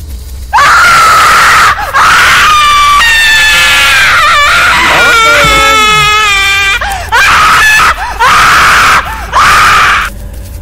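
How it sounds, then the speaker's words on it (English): Generic horror-style female scream in the Slendytubbies 2 video game: loud, shrill, sustained screams repeated several times with brief gaps and wavering pitch, alone without talk. "That's just a generic horror girl scream sound effect"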